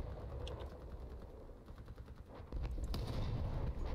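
Cannons firing in the vehicle combat video game Crossout, heard as repeated heavy booming shots over a constant low rumble of engines and battle noise, growing denser and louder toward the end.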